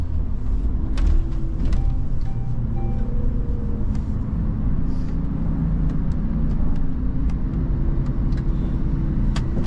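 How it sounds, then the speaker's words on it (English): A tour bus rolls through Munich city streets, its engine rumble steady and close throughout, with scattered clicks and knocks but no voices. "Then we're going to turn the bus and see it again."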